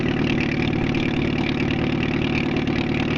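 An Allis Chalmers Model B tractor with a suspected carburettor choke fault runs steadily at idle, a loud, even, low mechanical chug that holds constant throughout with no talking.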